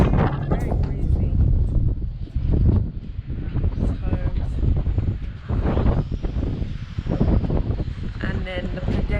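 Breezy wind rushing past the back of a hotel in Santa Maria, Cape Verde, a steady loud buffeting with microphone wind noise, heavy low rumble throughout, and a voice talking over it.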